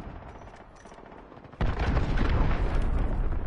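A cruise missile explosion in a video game: a low rumbling backdrop suddenly jumps into a loud, sustained roar of blast and debris that continues to the end.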